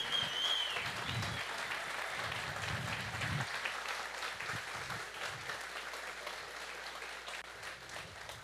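Audience at a national boiler engineering congress applauding visiting guests from Guatemala, a broad, sustained burst of clapping from a large room that holds steady throughout, with faint voices and murmurs mixed in.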